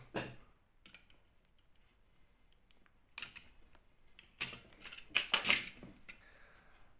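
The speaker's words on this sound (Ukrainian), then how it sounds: "Лишнє я обрізаю." Scissors trim excess material while a DIY electric candle is being made, producing quiet, scattered snips and small clicks that build into a brief cluster of sharper cuts near the end.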